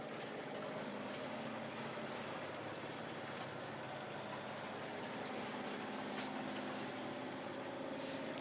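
A sailboat's inboard engine runs with a low, steady drone, faint and muffled behind a closed companionway, and a brief click cuts in partway through.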